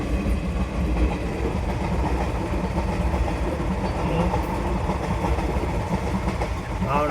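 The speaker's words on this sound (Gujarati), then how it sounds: "ભાવનગર વાળી ટ્રેન છે જોવા ગઈ" A Bhavnagar-bound train rolls past the Dhola railway level crossing, a loud, steady rumble and rattle of wagons that fills the whole stretch without pause.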